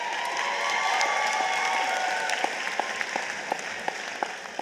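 A large graduation audience at a high school commencement applauds with scattered cheers, a dense, steady wash of clapping with a few sharper claps standing out near the end.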